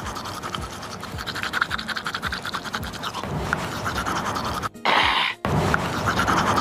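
Toothbrush scrubbing teeth in quick, rough repeated strokes, close and fairly loud, with breathy gasps and a brief louder rush near the end.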